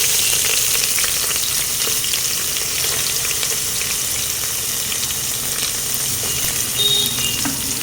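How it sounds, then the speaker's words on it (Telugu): Onions frying in oil give a loud, even, close sizzle that holds steady throughout, with faint crackles and no talk. "ఉల్లిపాయలు వేస్తున్నాను"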